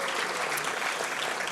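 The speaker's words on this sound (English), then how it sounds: "let's give her a round of applause" Steady, dense audience applause at an award ceremony honoring a healthcare visionary, continuous and fairly loud throughout with no pauses or voices over it.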